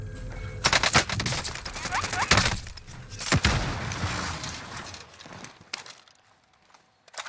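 Rapid bursts of automatic gunfire and single shots from a Call of Duty Warzone match, loud and clustered in the first half, then thinning out with a quieter tail near the end.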